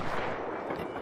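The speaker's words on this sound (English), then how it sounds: "Was that you shooting?" Gunfire in the video game Arc Raiders bursts out as a dense, loud, rumbling blast that fills a brief moment with no pause.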